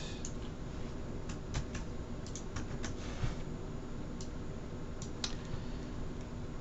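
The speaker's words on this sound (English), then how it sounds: "type the command exactly same as in our lecture note" Someone types a command on a computer keyboard, a quiet run of scattered key clicks over a steady background hiss, close by and alone.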